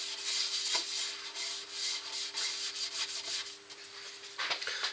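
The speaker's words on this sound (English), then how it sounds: "So I'm going to put the sanding sealer on." Cloth rubbing acrylic sanding sealer onto a spinning piece of wood on a lathe, a steady soft scratchy friction with a faint motor hum underneath, rising and falling in gentle strokes.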